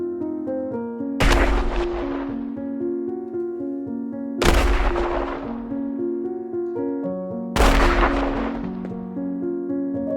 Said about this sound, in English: the stun grenade explosion is bigger than the frag